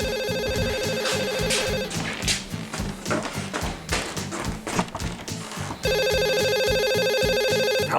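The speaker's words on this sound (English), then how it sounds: "The phone's ringing." A telephone rings in repeated electronic bursts, loud and close, with a busy stretch of tapping and thumping sounds between the first and second rings.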